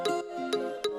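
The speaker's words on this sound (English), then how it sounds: "We got our plucks" A bright pluck synth from an Afro/Moombahton remix made in FL Studio, with three sharp tonal plucks struck at an even pace over a sustained harmonic bed, clean and upfront.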